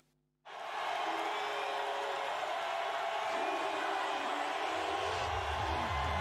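A large wrestling arena crowd roars and cheers continuously after a sudden start, loud and sustained with no break.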